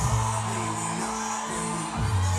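Rodeo crowd at a professional Western festival rodeo in Guigues cheering and whooping, a loud sustained roar of many voices with rising whoops near the start and end, under an announcer's amplified voice.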